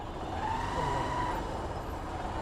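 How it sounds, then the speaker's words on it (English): Dense road traffic rumbles steadily around a motorcycle stuck in a heavy jam, with a constant low engine and vehicle drone and a faint horn-like tone briefly rising above it. "There is a huge traffic jam here."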